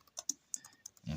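Rapid typing on a computer keyboard, a burst of sharp, close key clicks in an uneven rhythm, ending with a dull low thump.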